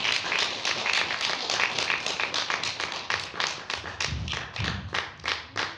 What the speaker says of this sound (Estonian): Ja aplaus kestab